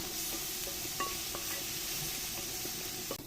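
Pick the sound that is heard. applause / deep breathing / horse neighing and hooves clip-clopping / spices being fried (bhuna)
spices being fried (bhuna)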